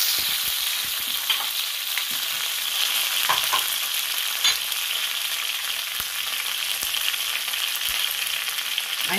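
Curry leaves fry in hot oil in a pan for a Kerala-style masala dosa filling, giving a steady, loud, close sizzle with occasional stirring scrapes.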